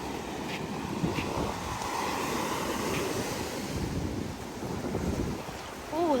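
Ocean surf rolls continuously onto a beach at Laguna: a steady, full wash of breaking waves, close and loud, with some wind rumble on the microphone and no talking.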